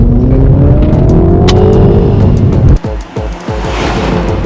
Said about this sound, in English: This is a Cooper JC. Oh my god, just listen to that.